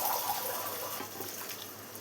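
Water poured from a pressure cooker into a pot of Kerala beef curry, a steady close splashing gush running throughout with no talk.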